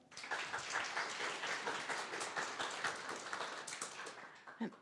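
A crowd at a hackathon's final pitches applauds steadily, dense clapping filling the room for several seconds before tapering at the end.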